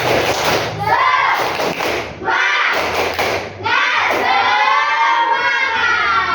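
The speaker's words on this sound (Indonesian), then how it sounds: "Sekali lagi tepuk semangat." Children in a classroom perform the tepuk semangat chant, loud shouted voices mixed with bursts of rhythmic clapping and thumps, in close, lively repeated phrases.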